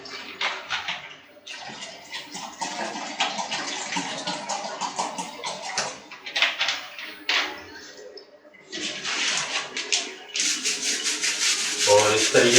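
A very soft brush scrubs the filter of a Gree air conditioner's indoor unit with detergent water, giving steady rasping strokes in bursts with short pauses, close up, with no talking over the scrubbing.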